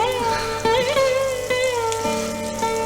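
Onions frying in ghee in a kitchen, a steady close sizzle with crackling, overlaid by prominent tonal sounds like music or a voice throughout.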